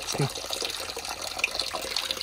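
Water runs steadily from a popular public fountain in the centre of a village, a continuous splashing flow, close by with faint background voices.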